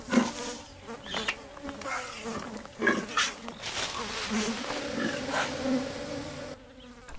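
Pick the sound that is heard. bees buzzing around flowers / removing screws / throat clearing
bees buzzing around flowers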